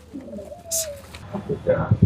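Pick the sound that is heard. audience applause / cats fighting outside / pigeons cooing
pigeons cooing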